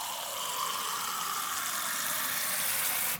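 Water pours steadily from a measuring mug into a pan for cooking rice, a continuous close splashing stream that ends abruptly near the finish.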